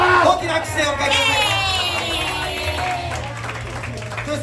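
Audience at a year-end countdown live idol show in Gotanda cheering and clapping to welcome a performer, a dense, sustained crowd roar with whoops, fairly loud and continuous.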